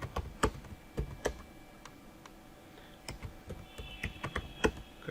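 Keys on a computer keyboard are typed in short bursts of crisp, close clicks with brief pauses between, while someone enters text in a word processor, no voice present.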